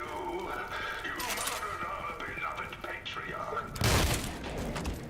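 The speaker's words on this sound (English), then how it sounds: "I'm taking damage from my own incendiary rounds." Incendiary rounds firing and bursting in a shooter video game played on a Steam Deck, with rapid cracks and thuds under a busy mix and a loud explosive blast near the end.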